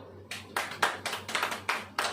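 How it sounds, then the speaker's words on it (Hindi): A congregation at a church sermon claps in sharp separate bursts, about seven claps in a loose, uneven rhythm, fairly close, with no talk over them. "ताली बजाओ"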